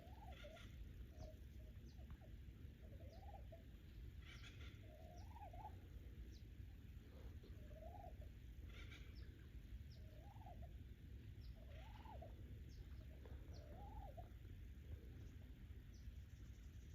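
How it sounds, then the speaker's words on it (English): Wild turkeys on Mt Diablo gobble in repeated bursts at a steady interval, sounding distant and faint over constant outdoor background noise. "Turkeys are huge."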